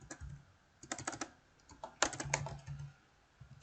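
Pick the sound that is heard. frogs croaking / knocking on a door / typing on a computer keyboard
typing on a computer keyboard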